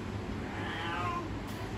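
A cat lets out a single drawn-out meow against steady background hum, the call rising and falling once before fading.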